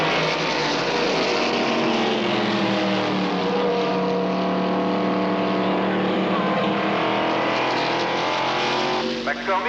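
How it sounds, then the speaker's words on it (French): A race car engine, a custom special driven in a race, roars steadily and loudly throughout, its pitch shifting as it runs, while a commentator talks over it. "McCormick, au volant de sa spéciale Denko, fait vraiment une course superbe"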